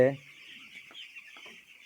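Chicks on a poultry farm keep up a steady, high-pitched peeping and soft clucking. It is a continuous chorus at moderate distance, with a brief lower sound right at the start.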